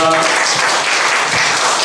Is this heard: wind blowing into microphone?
no